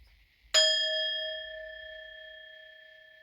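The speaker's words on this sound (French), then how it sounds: "C'est la sonnerie la plus forte des 3 groupes." A single bell struck once during a tarot reading, ringing out loud and close with a bright metallic strike that leaves a long, slowly fading tone lasting several seconds, heard alone without talk.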